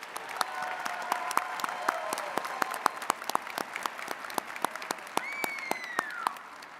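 A commencement audience applauds doctoral degree recipients with sustained, even clapping from a large crowd in a ceremony hall, a few sharp claps standing out above the steady patter.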